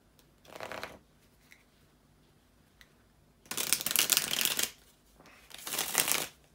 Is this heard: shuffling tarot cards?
yes